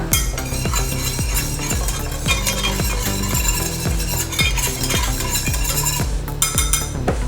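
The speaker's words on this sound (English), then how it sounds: "give my cheese sauce a little stir" A vegan cheese sauce is stirred in a pot, with soft repeated scraping and clinking of a spoon against the pot under steady rhythmic background music.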